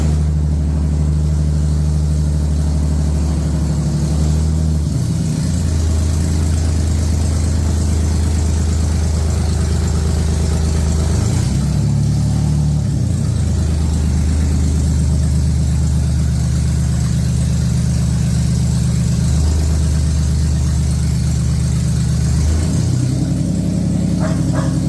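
A first-generation Toyota Tacoma with a swapped 5VZ V6 engine runs steadily and loud, idling with a few mild revs as the truck creeps back and forth, with no talking.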